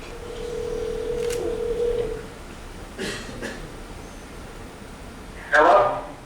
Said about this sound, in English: So I'm going to go ahead and dial the phone.